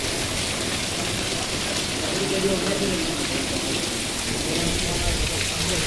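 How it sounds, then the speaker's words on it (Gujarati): Heavy afternoon rain in Talaja pours down in a dense, constant roar, steady and loud from start to finish. "જોરદાર વરસાદ શરૂ તળાજા"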